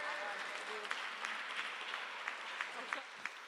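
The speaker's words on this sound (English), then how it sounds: "applause for Miss Edwards for being here" Audience applause at a children's mayoral conversation event in a museum, steady clapping from a crowd with a few sharper claps standing out throughout.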